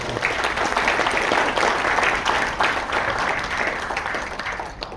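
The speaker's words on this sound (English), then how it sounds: "with a round of applause" Steady, dense applause from a sizeable crowd fills the whole stretch, loud and continuous without pause.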